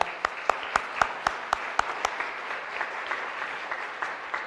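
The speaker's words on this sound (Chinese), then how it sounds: "让我们欢迎你，宋家修弟兄，来拍手欢迎他来。" A church congregation at a Sunday service claps to welcome a guest, starting with distinct sharp handclaps that blend into softer, steadier applause, moderately distant in a large room.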